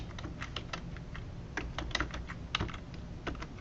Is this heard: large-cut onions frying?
no